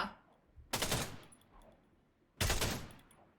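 Two short bursts of rapid FAMAS rifle fire in the game Free Fire, loud and close, separated by a quiet pause.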